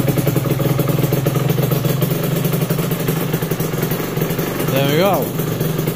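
An Aprilia RS125 two-stroke motorcycle engine runs steadily at close range after starting, its buzzy harmonic drone continuous throughout while a person speaks briefly over it.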